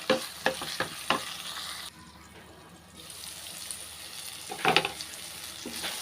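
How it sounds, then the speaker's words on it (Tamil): Ridge gourd and green chillies sauté in oil in a pan, sizzling steadily close up while a spoon stirs and scrapes in a few sharp clatters, with a brief quieter lull partway through. "இது பீர்க்கங்காயும் பச்சை மிளகா லைட்டாக எண்ணெயில் நல்லா வதக்கிக்கலாம்."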